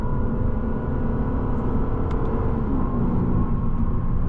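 The V8 of a 2025 Lexus RC F Final Edition hums steadily from inside the cabin while cruising, a moderate engine drone with slight pitch shifts under road noise, fairly subdued rather than roaring.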